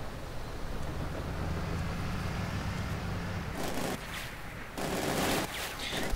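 Gunfire and mortar fire in the strategy game Company of Heroes 2: a dense, steady roar of rapid shots runs throughout, then breaks into louder bursts near the end.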